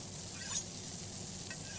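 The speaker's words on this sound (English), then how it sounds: "The griddle sizzles." A griddle sizzles as a radio play sound effect, a faint, steady hiss of frying heard alone for a couple of seconds.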